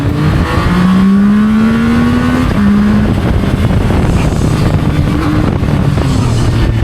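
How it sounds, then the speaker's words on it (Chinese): A Zontes 703F motorcycle being ridden for a brake test, its engine loud and close with rising and falling revs and a steady wind and road roar throughout. "试一下刹车。"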